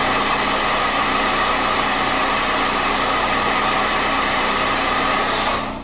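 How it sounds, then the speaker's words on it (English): An old hair dryer blows continuously at close range, a loud, even whooshing roar that holds steady throughout before cutting off at the very end. "because I got this old hair dryer here that kind of hurries it along a little bit"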